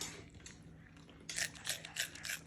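Close, crisp crunching of food being chewed, several quick bites in a row after a quiet moment.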